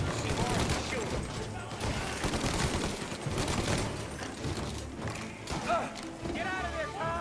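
Dense gunfire in the Mafia: Definitive Edition video game, a near-continuous fusillade of shots mixed with loud clatter, with voices shouting over the fight.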